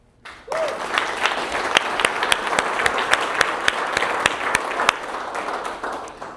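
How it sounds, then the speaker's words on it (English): A group applauds for the ambassadors at a motorcycle anniversary luncheon, a steady burst of many hands clapping that starts abruptly and holds at a lively, fairly close level for several seconds. "And I know we gave you a round of applause"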